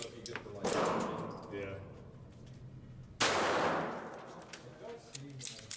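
A Kimber 1911 pistol with a .22LR rimfire target conversion kit fires Browning Pro 22 ammunition, giving two sharp, close gunshots a few seconds apart, with quieter handling noise between them.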